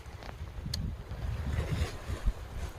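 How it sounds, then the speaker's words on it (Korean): Wind gusts at a seaside fishing spot, a low, uneven rumble of buffeting against the microphone with faint, brief ticks and no voices. "바람은 뒤에서 불고"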